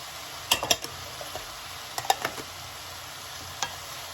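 Peppers and tomatoes with the seeds removed sizzle gently in a pan for Greek cod saganaki, while a utensil stirs them and gives a few sharp scrapes and clinks against the pan over the soft, steady frying hiss.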